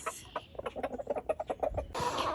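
Chickens and a rooster cluck in a farmyard coop after rain, a quick run of short, close clucks and calls over roughly two seconds, ending in a louder burst of noisy flock sound.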